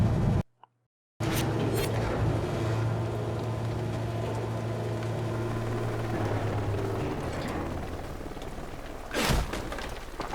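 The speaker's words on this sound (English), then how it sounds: "But that helicopter sound isn't a good sign." A helicopter in Dark Sector: a steady low droning rotor hum swells after a brief silent gap and holds for several seconds, with a whooshing burst near the end and no talk.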